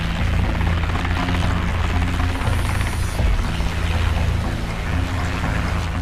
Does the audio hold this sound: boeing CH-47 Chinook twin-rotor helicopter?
yes